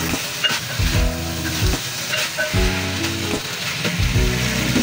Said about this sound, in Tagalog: ilalagay na rin po natin yung ating chicken. Ayan. Halo-haloin po natin.